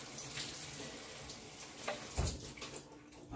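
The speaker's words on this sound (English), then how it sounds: "Let me wash this broccoli." Running tap water splashes faintly as broccoli is rinsed under a kitchen faucet, a steady soft hiss with a brief louder splash partway through, no talking.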